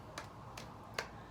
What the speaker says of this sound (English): Let's pat our legs.